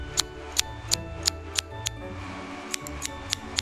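Scissors snip crisply about ten times in a steady rhythm, close by, cutting a woman's hair into a layered cut, with a quiet hum underneath and no talking.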